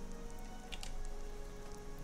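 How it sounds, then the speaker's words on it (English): Rain falls in the video game Skyrim as a soft, continuous patter with scattered brighter drops, faint and steady, with no talking. "I love the rain, but it's a little bit loud"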